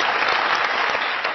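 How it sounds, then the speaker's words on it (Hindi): A studio audience on the Dunya News comedy talk show Mazaaq Raat claps. It is a short, steady, full burst of crowd applause, heard on its own without speech. "आप सबकी तालियों में जनाब कमर जमान कायरा।"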